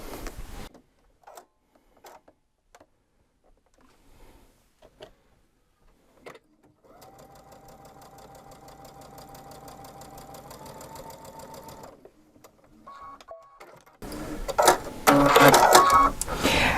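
A sewing machine stitches a seam joining two pieces of fabric, running steadily for about five seconds after quiet setup clicks, with louder handling noise afterward.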